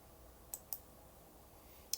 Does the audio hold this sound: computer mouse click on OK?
yes